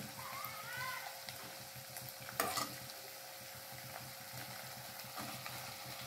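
Chopped tomatoes are sautéed with fried prawns and onion in a pan, giving a faint, steady frying hiss with one brief scrape of stirring partway through. There is no clear speech.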